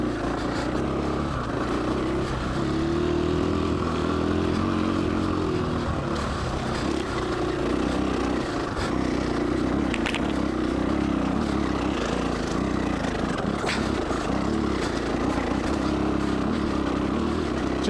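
Husqvarna FE 501 or KTM 500 EXC-F dirt bike engine lugging at low revs off-road, a continuous rough low rumble with slight surges, moderately loud throughout.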